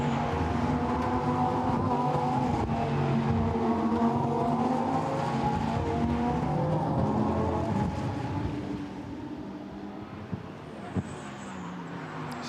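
Lamborghini Super Trofeo race cars lap the Spa circuit during a 2019 European series race, a steady dense engine drone with layered tonal whine, slightly easing near the end.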